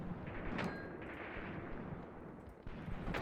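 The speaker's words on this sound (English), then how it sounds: "There's possibly mortars from our actual infantry units." Distant mortar and artillery fire from infantry units in a war zone near Kharkiv, Ukraine, faint booms and thuds under a rumbling background, with a couple of sharper reports.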